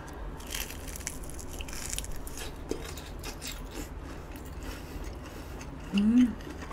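A Korean-style hot dog with sausage inside, eaten for a mukbang, gives a single close, fairly loud bite and crunch near the end, after a long stretch of low, steady background noise with no talking.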